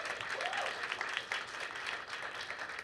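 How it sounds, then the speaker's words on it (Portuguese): An audience at a university nutrition symposium applauds its professors with steady, dense clapping that fills the room at even loudness throughout. "Então, palmas para os nossos professores."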